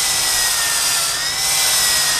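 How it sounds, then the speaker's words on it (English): A power drill grinding steadily through concrete and rebar, a loud continuous high-pitched whine close by, no speech. "It'll drill right through the rebar?"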